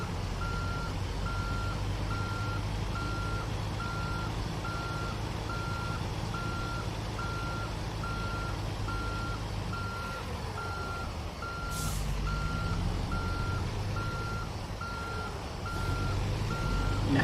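Truck reversing beeper in American Truck Simulator, a steady evenly spaced series of high beeps over a constant low engine rumble as the truck backs up.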